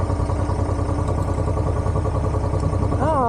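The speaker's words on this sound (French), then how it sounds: "Ah, elle sonne bien la moto là." A Honda motorcycle engine runs close by with a steady mid-pitched chug over gravel, continuous throughout, with a short rising whine near the end.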